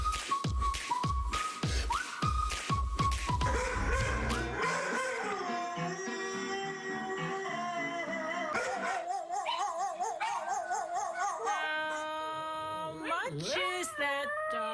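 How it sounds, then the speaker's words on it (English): Pet dogs howl and sing in a talk-show competition, with long wavering tonal howls and yips following one another over loud music and studio audience noise, with some talk. "Yeah, singing dogs."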